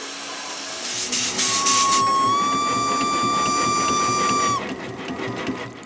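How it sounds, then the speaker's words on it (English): A Victorian-era steam traction engine on a farm, building up pressure for threshing, gives off a loud steady hiss with a sustained whistle-like tone that holds for several seconds before cutting off. "Tom Henderson operates the steam traction engine."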